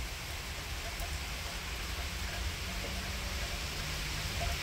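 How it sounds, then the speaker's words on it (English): Heavy rain pours down through a spring overnight thunderstorm, a dense, steady wash of noise that stays loud and unbroken throughout. "You can see just how much rain is coming down at the moment."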